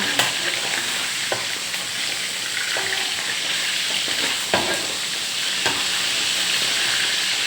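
Mackerel deep fries in hot oil until crispy, a loud, steady crackling hiss that runs the whole time with a few sharp pops and clicks and no voices.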